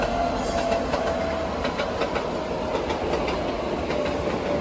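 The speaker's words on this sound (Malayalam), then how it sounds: "ഇതിലൂടെ ഒരു ട്രെയിൻ പോകുന്നതാണ്." A train passes on the railway line near Jabalpur, a steady loud rumble of wagons with rhythmic clickety-clack of wheels over rail joints and faint squealing tones, continuous throughout.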